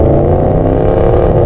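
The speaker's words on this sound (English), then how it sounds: "I've been thinking maybe we should trade this truck in. It's so loud." A loud, gas-guzzling truck engine roars close by in a dense, continuous revving rumble that cuts off sharply after a moment.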